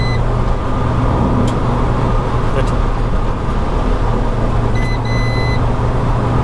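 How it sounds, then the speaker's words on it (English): Inside a Renault Twingo fitted with a bucket seat and OMP subframes, a brake warning chimes in short bright beeps, a couple early and a quicker pair later, over loud, steady road and cabin rumble while driving. "The brakes are beeping again at me."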